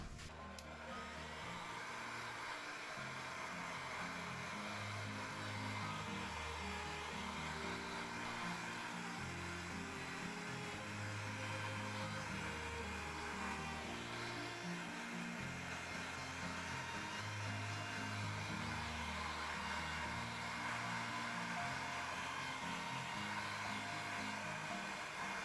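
Blower or hair-dryer-like air stream running steadily over resin and spray paint, a constant whooshing hum with slight wavering in the low motor tone, nearby and unbroken.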